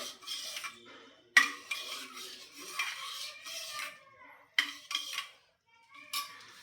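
A ladle stirs dal with jaggery in a pot in a home kitchen, giving soft scraping and metallic clinks in short bursts with pauses between. No one talks.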